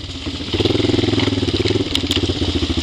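A 1995 Yamaha Timberwolf 4x4 ATV engine labors close by as it climbs over rocks, a loud pulsing single-cylinder drone that steps up in revs and holds steady.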